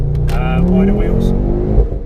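A 320bhp Ford Focus ST with a decat exhaust drones close by, its engine note climbing under continuous conversation, with a few sharp crackles toward the end suggesting exhaust pops.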